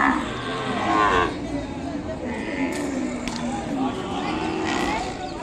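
Ongole cows at a busy cattle market give long, loud moos close by, over the steady din of the crowd and people talking.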